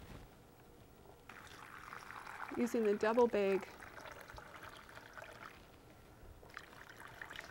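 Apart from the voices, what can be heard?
pouring brine over cabbage for sauerkraut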